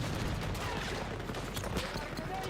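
Dense video game gunfire, covering fire laid down in a firefight, with rapid overlapping shots and bursts forming a loud, continuous barrage through the whole stretch.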